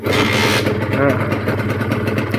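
A rebuilt Honda NSR150RR motorcycle engine with an aftermarket carburettor runs loud and close, idling with a steady throbbing rumble and a brief rev, with a voice speaking over it.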